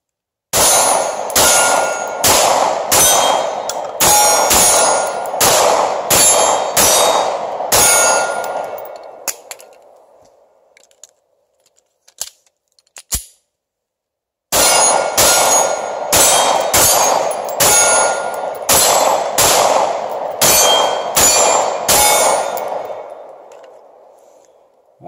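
Glock 26 pistol fired at steel targets: two strings of quick shots, each with a bright metallic clang ringing after it, split by a pause of near silence with a couple of isolated clicks.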